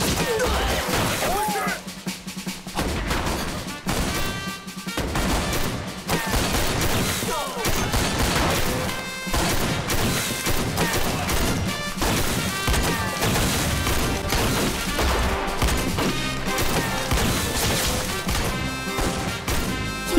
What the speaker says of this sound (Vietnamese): Anh em, bắn cho tôi.